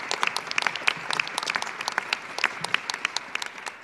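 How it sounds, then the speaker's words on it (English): Applause in a room during a press event on abuse prevention legislation, with many distinct sharp claps standing out over a steady bed of clapping, fairly close and even throughout. "Give them a big round of applause"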